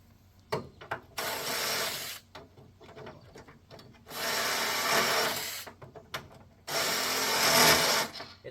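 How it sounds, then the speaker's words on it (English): An impact wrench works on the transmission mount bolts of a 1991 Dodge Caravan that was abandoned since 2005, firing three loud sustained bursts of about one to two seconds each. Short clanks and taps fall between the bursts. "Grab the impact here."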